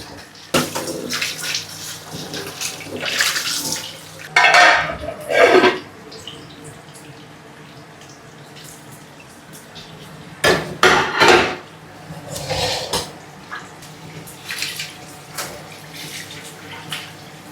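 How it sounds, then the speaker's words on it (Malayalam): Rice washed with water in a pot, loud close bursts of swishing, splashing and running water in several separate spells, with quieter stretches of light clatter between them. "അരി കഴുകുക."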